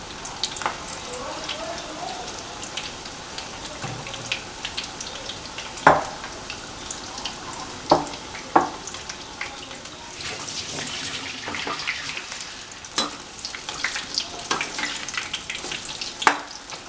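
Chilli bajji, thattukada-style mulaku bajji, frying in hot oil: a continuous close sizzle with scattered sharp pops and clinks of a utensil stirring the pan.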